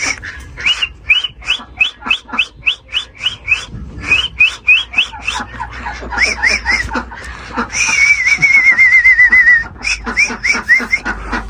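A person whistles repeatedly at an Aseel rooster, with rapid chirpy whistle bursts in quick runs and one longer sliding whistle, close and fairly loud, with some laughter mixed in.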